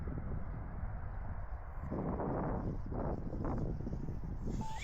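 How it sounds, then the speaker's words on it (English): A strong south-southwest wind buffets the microphone outdoors at an RC flying field, producing a continuous low rumbling roar that swells slightly midway and persists throughout. "You can see that's got a south wind right now, south-southwest. She's still blowing pretty good."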